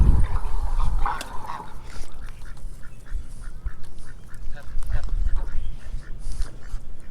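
Canada geese honking outdoors on a morning e-bike ride past an island, with repeated loud honks from a flock close by and a steady rumble underneath.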